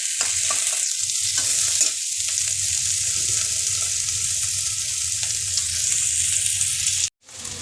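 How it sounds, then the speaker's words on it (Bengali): Onions and a tomato sizzle loudly in an oiled pan while being stirred, a steady close frying hiss with spatula scrapes that cuts off abruptly near the end. "এই যে আমার পেঁয়াজগুলো টমেটো ভাজা ভাজা হয়ে যাচ্ছে"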